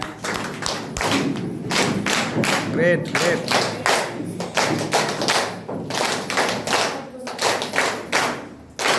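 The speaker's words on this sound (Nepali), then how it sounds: "जोरदार ताली" A company gathering audience breaks into strong applause at a DXN business meeting, loud sustained clapping with thumping beats, and a voice calls out briefly over it.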